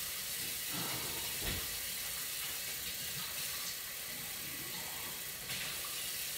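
Hot water runs steadily from a kitchen tap into a glass, a continuous close hiss and splash at even loudness throughout.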